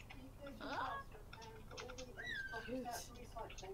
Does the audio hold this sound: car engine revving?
no